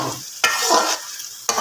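Khoya being stirred into pumpkin halwa in a hot pan, with scraping strokes over a soft sizzle and sharp scrapes at the start and end of each pass, close and clear.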